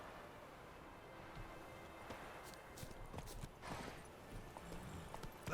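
Hoofbeats of Roach, Geralt's horse in The Witcher 3, clopping steadily at a trot over ambient game sound, with quiet background noise and no talk.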